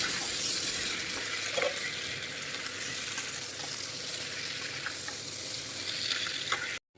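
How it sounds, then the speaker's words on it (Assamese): Boiled pork with chillies frying and being stirred in a pan, a continuous close hiss of sizzling oil with occasional soft spatula scrapes, cutting off abruptly at the end. "মাংসখিনিও এতিয়া দি দিলোঁ। দি কেনে বঢ়িয়াকৈ লৰাই দিছোঁ।"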